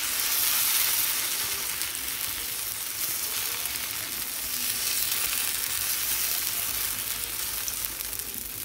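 A thalipeeth flatbread fries on a hot pan like a dosa, giving a steady, close sizzle and hiss that holds evenly throughout with no talking.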